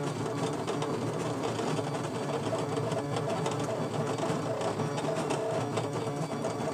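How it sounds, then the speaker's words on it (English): A Brother ScanNCut machine embosses parchment on an embossing mat, producing a steady, close mechanical whirring and rapid ticking that continues evenly throughout without pause, with no talking. "The accuracy of the machine is such that it embosses again exactly where it's done before"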